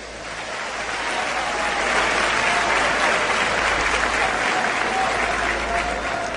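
A large church congregation at a Gideões gathering applauds steadily, thick, sustained clapping filling the room, with a murmur of voices under it.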